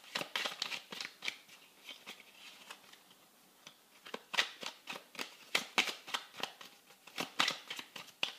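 Tarot cards being shuffled and drawn, producing many quick crisp papery riffles and slaps in uneven bursts, close and quiet with a brief lull in the middle.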